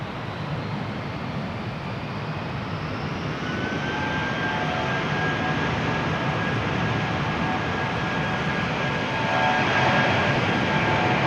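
A 21-year-old airliner, first flown in September 2002, roars steadily with a loud jet-engine rumble at rainy Amsterdam Schiphol Airport, the sound holding near and constant and swelling slightly toward the end, with no voices.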